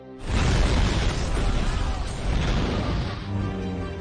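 A huge explosion rips through an oil-soaked place after gunfire in the action film Terminator: Dark Fate, a loud sustained roaring blast with crackling debris that fills the whole scene before tailing off, with no voices.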